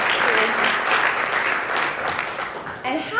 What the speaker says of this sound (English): So can we give a big round of applause for Geraldine and the GCC team?